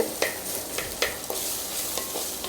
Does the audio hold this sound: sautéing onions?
yes